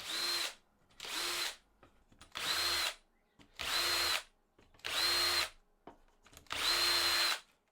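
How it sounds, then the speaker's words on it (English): A power drill spinning a dowel in holes on a window frame whirs in six short bursts of about a second each, with brief pauses between, close and fairly loud with a slight rubbing scrape. "chucked up a dowel in the drill, and now I'm just going to whiz it around in each of the holes"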